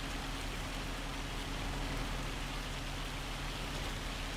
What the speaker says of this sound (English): let's get out of this rain